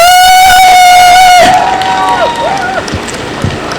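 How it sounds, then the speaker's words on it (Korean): Crowd at an outdoor education superintendent campaign rally in Andong breaks into loud applause and cheering after an amplified speaker's voice cuts off, shouts rising over the clapping. "박수 부탁드리겠습니다"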